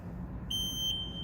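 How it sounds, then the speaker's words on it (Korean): An S12 ride-on wet floor scrubber sounds its start-up alarm, a single steady, high electronic beep that starts abruptly and holds over a low machine hum. "시작 알람과 함께 디스플레이 창에 배터리 게이지 및 사용 시간이 표시가 됩니다"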